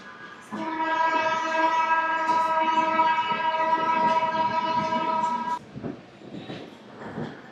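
The Golconda Express, train 17201 from Guntur to Secunderabad, pulls into Vijayawada Junction with a loud sustained horn blast lasting several seconds over the rumble of the cars, followed by quieter rolling noise.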